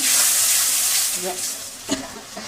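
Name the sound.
spice paste sizzling while stir-frying crab curry with water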